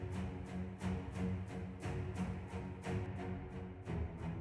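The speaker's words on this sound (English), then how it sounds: "Then we have some spiccato strings down here" Short, bouncing spiccato string notes from a trailer-music sample library play in a steady, fast rhythm, fairly quiet and alone.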